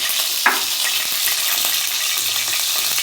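Fennel seeds dropped into heated oil for a Tamil mutton chukka, giving a steady close sizzle with a brief sharp burst near the start and light crackling throughout, no voices.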